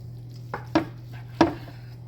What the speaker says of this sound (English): we're going to slice into it here